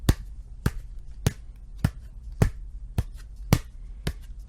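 A person mimics Hulk Hogan's footsteps Foley-style for a muted WCW Nitro entrance, eight sharp, evenly spaced taps about half a second apart, close and crisp, with no talking.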